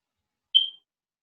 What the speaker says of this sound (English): Don't tell me my fire alarm's going dead.